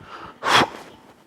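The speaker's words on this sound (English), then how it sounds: "You're gonna forcefully exhale" A single sharp, forceful breath out during an abdominal workout, a brief loud burst of air between quieter breathing.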